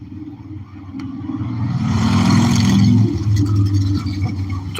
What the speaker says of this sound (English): Motorcycles,